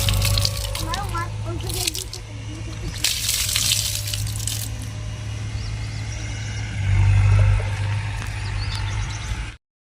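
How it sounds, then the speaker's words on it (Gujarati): Water splashes and pours in short bursts, as when rinsing hands, over a steady low engine hum and faint voices. "હવે આપણે હાથ ધોઈ લેશું."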